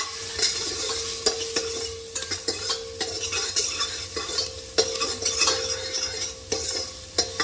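Onions frying and stirred in a pot, a continuous bright sizzle broken by repeated scraping and clanking of the spoon against the metal, no voices.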